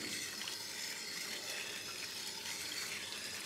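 Home-grown carrots rinsed outdoors under running water, a steady close rush and splatter of flowing water continuing without pause and with no talk.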